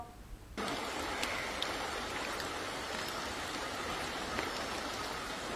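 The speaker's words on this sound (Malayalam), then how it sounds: "കരകവിഞ്ഞൊഴുകുന്ന തോട്ടിലെ കനത്ത ഒഴുക്ക്" Heavy flow of a flooded, overflowing stream in Vandoor, Kerala, a broad steady rushing roar of water that starts abruptly and continues evenly, with no voices.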